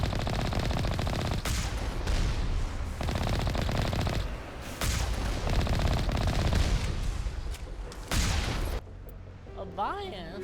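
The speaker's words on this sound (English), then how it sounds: "He's shooting at us." Gunfire in the video game Mass Effect: loud, rapid machine-gun bursts and heavy shots come in repeated volleys separated by short gaps, then fade into quieter synthetic effects near the end.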